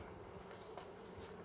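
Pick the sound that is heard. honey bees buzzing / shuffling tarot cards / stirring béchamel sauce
honey bees buzzing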